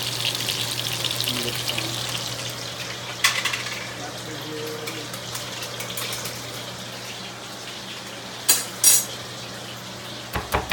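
Atlantic salmon sears in a hot pan with a steady low sizzle and hum, punctuated by occasional clinks of a utensil against the pan near the end; a voice speaks briefly under it.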